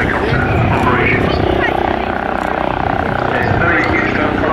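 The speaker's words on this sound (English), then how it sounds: "now operating more as a helicopter, you can sense distinctly the rotor sound more familiar with helicopter operations" An AW609 tiltrotor hovers in helicopter mode at the RNAS Yeovilton Air Day 2015, its rotors making a steady, throbbing drone beneath a commentator's voice.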